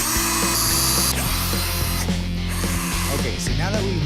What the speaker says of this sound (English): I want you to get everything drilled into this wall